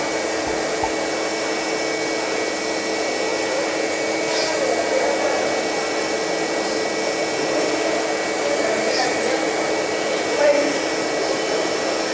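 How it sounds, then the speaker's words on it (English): CNC grinder running while grinding precision punches in a mold factory, a steady loud broadband hiss and hum throughout with faint faint high scrapes now and then. "This is our CNC grinder."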